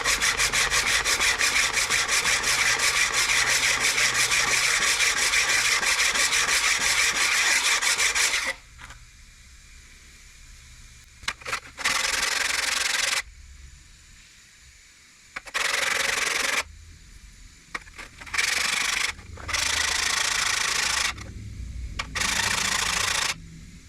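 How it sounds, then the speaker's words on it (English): A diamond hone block is rubbed against a metal part from a 1913 Walcott lathe, first in a long continuous rasping scrub, then in short, loud back-and-forth bursts separated by brief quiet gaps. "I'm gonna try to use this diamond hone block here to clean that up a little bit"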